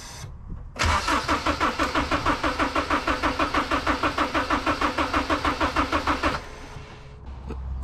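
A turbocharged Honda K24 engine cranks with its plugs out for a compression test, a fast, even, rhythmic chugging from the starter that lasts about five seconds before stopping, close and fairly loud, with no talk.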